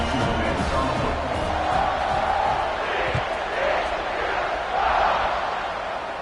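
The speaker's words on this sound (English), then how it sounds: "this crowd is buzzing after that last score" Football stadium crowd at a Boise vs TCU game buzzes in a steady, broad roar after a touchdown, with a swell near the end and a commentator talking over it.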